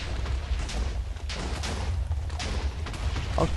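Rolling video-game explosions on a blocky puzzle parkour map, with booming low rumble and repeated overlapping bursts in quick succession, loud and uninterrupted by speech.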